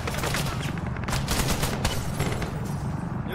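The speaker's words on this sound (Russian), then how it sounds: "Я стреляю, я замаслил одного копа!" Dense, continuous gunfire in the Arma 3 video game, with rapid overlapping shots that sound like a fusillade, loud and sustained through the whole stretch, and a voice faintly beneath it.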